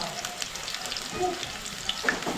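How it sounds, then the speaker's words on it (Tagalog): Chopped onion and garlic sizzle in hot oil in a pan, a steady close crackle with small spattering pops, no talk over it. "So hulog na natin oh, itong sibuyas at bawang"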